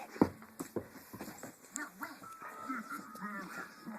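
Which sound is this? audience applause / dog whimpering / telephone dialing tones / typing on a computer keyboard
dog whimpering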